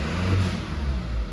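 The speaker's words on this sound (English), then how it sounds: "Snap throttle." A Mazda CX-3 engine with an exhaust pressure sensor fault revs sharply on a throttle snap and holds a loud, steady roar for about a second, close by and alone.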